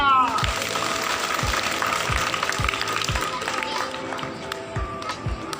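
Applause from an audience at a magic show after a colour-change trick, a steady broadband wash of clapping with a repeating low thump running beneath it, fairly loud and close.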